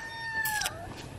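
A rooster in a backyard chicken flock gives a short, close, high call lasting under a second, with faint clucking around it.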